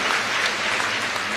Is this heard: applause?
yes